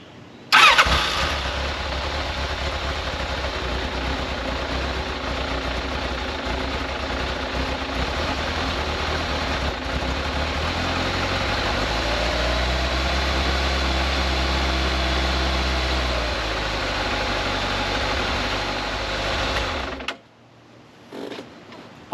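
A Kawasaki ZZR1200 motorcycle engine cranks and fires up, then settles into a steady, loud idle that holds for about twenty seconds before cutting off; no voices are heard.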